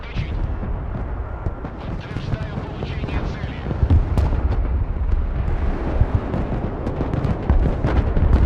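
Explosions from a bombing run during a zombie defense battle in the Broken Arrow video game roll in as continuous heavy rumbling and booming, loud and dense, with voices talking over them.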